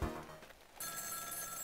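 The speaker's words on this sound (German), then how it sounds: "Telefon schon wieder." A telephone in the video game Ghost Trick starts ringing after a brief thud, giving a sustained, bright electronic ring that holds steady to the end.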